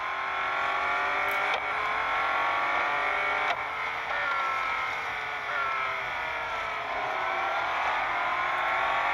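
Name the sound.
Ferrari and McLaren race cars driving in a racing video game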